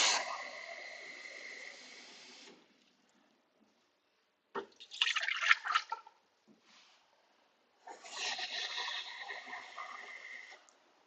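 Water pours into a Thermomix bowl for a French cooking recipe, splashing in two steady bursts with a short clatter between, close and moderately loud, no talking.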